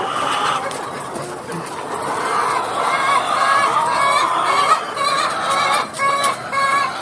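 A flock of young, growing RTL chickens on a farm calls and clucks together at dawn under morning lights, making a steady, busy chorus of overlapping chirps close by.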